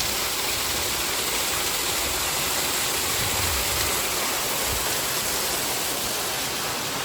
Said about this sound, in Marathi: खाली स्टार्टिंगला बघितलेला हा धबधबा.